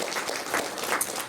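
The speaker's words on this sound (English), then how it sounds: "I think that deserves a clap" Applause at a school awards ceremony, a short burst of many hands clapping in a hall, fairly close and steady, with no voices over it.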